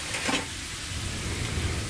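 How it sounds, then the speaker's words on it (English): Beef tongue meat sizzles in a hot frying pan, a soft, steady crackle and hiss heard close up with no talking. "You just toss in the meat and hear that sizzle."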